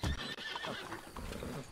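A horse neighs loudly and close by, a strong whinny lasting nearly two seconds with steady intensity, no talk over it.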